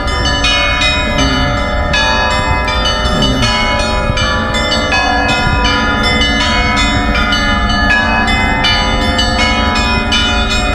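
Bells of Ascension Cathedral in Almaty ring out at six o'clock, a loud, continuous peal of overlapping strikes with rich ringing tones sustained throughout, heard outdoors with no talk.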